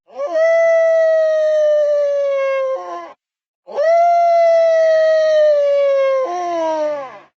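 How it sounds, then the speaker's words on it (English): An unused wolf howl from the video game Minecraft: two long, loud, sustained howls, each holding a steady pitch and dropping at the end, separated by a brief silence. "for instance, the wolf howl."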